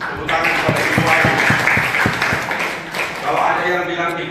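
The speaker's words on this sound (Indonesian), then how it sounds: "Tepuk tangan kepada Ibu Ayu." At a national seminar, an audience applauds a senator with a run of distinct claps that rises and then fades, while a voice keeps talking over it throughout.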